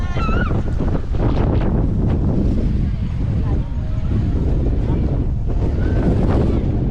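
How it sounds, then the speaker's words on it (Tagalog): Strong wind buffets the microphone in heavy, roaring gusts at the Dupinga River in Gabaldon, Nueva Ecija, with voices faintly audible beneath and what sounds like open water nearby. "Ang hangin guys, dam."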